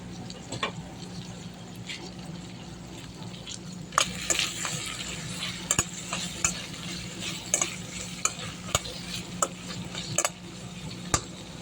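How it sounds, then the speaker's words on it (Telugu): Brinjal fries in oil in a pan, with a steady close sizzle throughout and irregular scrapes and taps as it is stirred, sharper knocks clustering in the second half. "కొద్దిగా సేపు ఆయిల్లో మగ్గనిద్దామండి"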